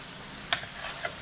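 A spoon scrapes a pot of homemade cheese hamburger helper over a soft steady sizzle, with a sharp clink followed by a few lighter scrapes close up and no talk.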